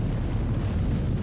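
Deep, continuous rumbling blasts of incoming weapon fire striking a spaceship's shields in Star Citizen, a dense low boom sustained at steady loudness with no breaks.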